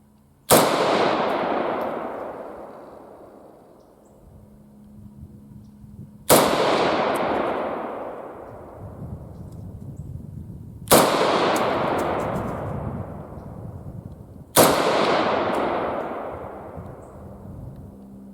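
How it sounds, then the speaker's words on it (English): A Swedish AG42B Ljungman rifle fires Sellier & Bellot ammunition at a range, four loud, sharp shots spaced several seconds apart, each followed by a long rolling echo. "this is also our first time shooting the Celler and Bellot ammo"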